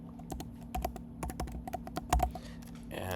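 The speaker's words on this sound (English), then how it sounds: "And then, you type in your password." A password goes in on a computer keyboard as a quick run of crisp, close keystrokes, irregular in rhythm, over a faint steady hum, with no speech.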